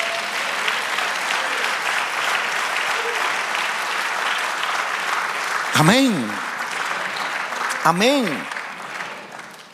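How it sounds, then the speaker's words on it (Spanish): Congregation applauding in church, a loud steady roar of clapping with two brief shouted exclamations from a voice rising above it near the end. "Dale aplauso al Señor."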